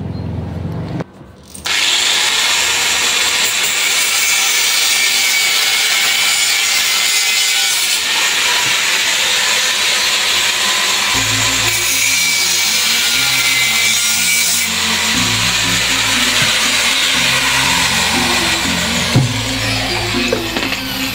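Iron rod for a small moving ogoh-ogoh figure being cut with a power tool, a loud continuous grinding rasp that runs steadily for about twenty seconds, with shifting low tones in the second half.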